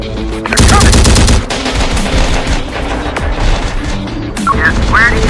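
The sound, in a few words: heavy gunfire from the video game Terminator Dark Fate Defiance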